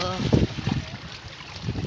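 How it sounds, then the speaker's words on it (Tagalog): Gusty wind at the seashore buffeting the microphone outdoors, rough low bursts that rise and fall, with a voice speaking briefly underneath. "Yung mahangin, para pong nakakadala ang hangin."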